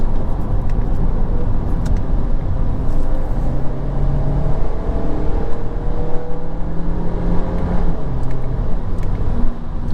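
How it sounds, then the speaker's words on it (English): A 2022 Audi A3 Premium Plus Quattro with a seven-speed dual-clutch gearbox pulls hard under acceleration, its steady engine drone rising through quick shifts, heard from inside the cabin with no talking. "being a dual clutch, the shifts are lightning quick"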